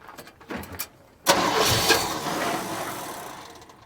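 A shortbox truck engine cranks with a few sputtering clicks, then catches and fires up into a loud, rough running roar that settles slightly while staying strong, heard close up.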